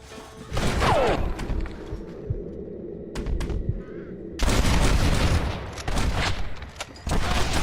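Heavy gunfire erupts during a gate assault in Red Dead Redemption, loud bursts of overlapping shots and impacts broken by a quieter lull with scattered cracks before the barrage resumes.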